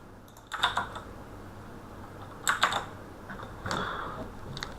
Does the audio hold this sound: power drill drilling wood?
no